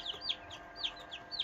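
A brood of ten newly hatched chicks peeps in quick, high, repeated chirps, several bright calls spaced through the moment, close and clear with no talking.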